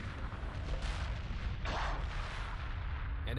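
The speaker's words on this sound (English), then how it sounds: "Oh, there goes another frigate." A frigate blowing up during a space battle in the game Homeworld Remastered, a sustained rumbling blast with crackling bursts, loud and dense, with no talk over it.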